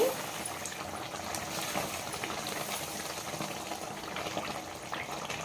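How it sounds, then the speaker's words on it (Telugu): A pot of drumstick pieces boiling on the stove gives a continuous, dense bubbling and rumbling at moderate level, with a faint voice in the background. "మునక్కాయలు ఎంతవరకు ఉడికినాయి చూద్దామండి. బాగా ఉడుకుతున్నాయండి."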